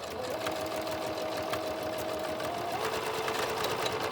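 A sewing machine running a straight stitch in continuous loops, a steady close mechanical whir and rapid rhythmic needle chatter throughout, without speech.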